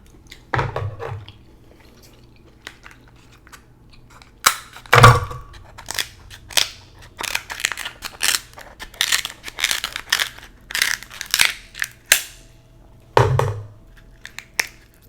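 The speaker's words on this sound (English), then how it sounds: "I got my kitchen shears here." Kitchen shears snip and crunch through the shells of a seafood boil in close, irregular bursts of sharp cracks and crackles, with brief wet sounds and quiet pauses between them.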